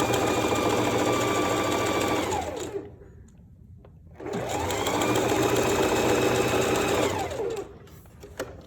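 A sewing machine zigzag stitching folded fabric into a bar for a one-piece garment, running in two steady, close, loud bursts separated by a brief pause.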